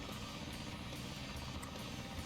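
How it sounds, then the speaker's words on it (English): Tails' airplane from Sonic Adventure, a steady droning propeller hum with a faint rhythmic chop, continuous and close, no talking. "This plane's cool."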